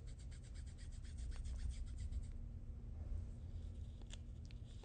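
Fingers gently rub over freshly applied SpiderTech kinesiology tape on the thigh and knee, producing a faint, close, continuous dry swishing with slight rhythmic strokes and no speech.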